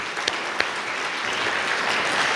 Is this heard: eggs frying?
no